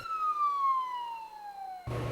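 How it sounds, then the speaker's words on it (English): Police vehicle siren tested by a customs K-9 unit, a single loud descending wail sliding steadily downward before cutting off abruptly into a burst of noise. "We check the sirens, horns, and the dog trailer's generator"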